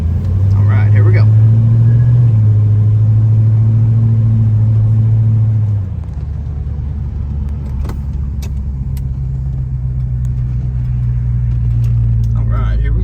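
Deep, loud engine rumble from a 1968 Pontiac GTO Ram Air on a test drive, close in the cabin, holding steady before dropping to a lower, quieter drone as it shifts, with brief rattles.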